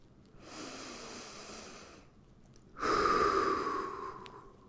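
Two long breaths during a side-lying exercise, close and soft: a breathy exhale lasting about a second and a half, a short pause, then a stronger, hissier exhale that fades out.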